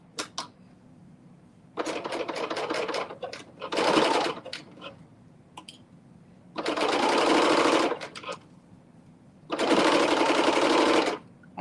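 A serger overlocks and trims fabric for a reversible tank top, running in several loud, steady whirring bursts of about one to two seconds, separated by pauses and a few short stitching taps.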